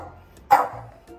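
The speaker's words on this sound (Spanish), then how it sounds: "Ella hoy, toda la tarde ha estado ladra y ladra porque quiere atención." A dog barks for attention indoors: one sharp, close, loud bark midway, with a quieter trailing sound after it over low household background.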